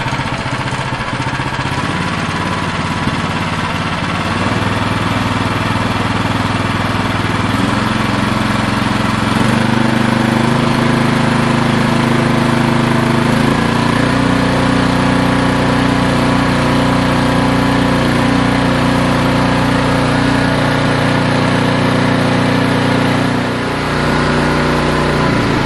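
An Ariens Pro 28 Hydro EFI snow blower engine idling up close, a loud, steady mechanical drone with a constant low hum that shifts slightly in pitch a few times over its length.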